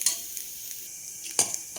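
Grated coconut roasts in a pan with a soft, faint sizzle, broken by a few scraping stirs and clinks of the spoon against the pan, close and quiet.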